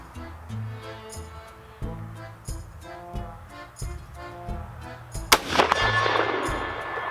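A single loud, sharp Mosin-Nagant 91/30 military surplus rifle shot rings out near the end, fired at a hard steel plate target and followed by a long ringing decay, with a droning tonal background beforehand.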